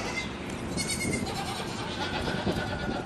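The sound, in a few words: baby goats bleating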